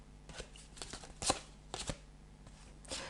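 Tarot cards shuffled and drawn by hand, a series of quick papery riffles and slaps in uneven bursts, close and fairly quiet, with no voices.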